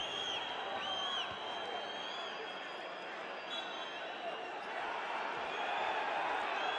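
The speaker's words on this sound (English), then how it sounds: "the crowd getting rather excitable because he had the break" Basketball arena crowd at a UCAM Murcia versus EWE Baskets Oldenburg Champions League game, a steady distant murmur of fans swelling with excitement, with scattered whistles and shouts over the hall's wash of noise.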